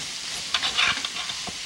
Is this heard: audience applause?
no